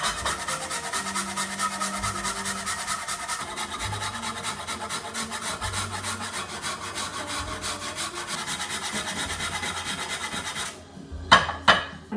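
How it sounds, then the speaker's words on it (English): Frozen watermelon ice is shaved with a long grater in fast, continuous rasping strokes, close and loud, for about eleven seconds. Then come a few sharper scrapes and knocks. "I'm gonna get to grating."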